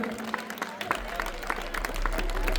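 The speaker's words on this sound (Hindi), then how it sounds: "जोरदार तालियों से एक बार स्वागत करेंगे।" Applause welcoming a young saint, a mahant of Juna Akhara, at a Hindu gathering in Rohini; steady clapping from a crowd runs throughout, with a low rumble underneath.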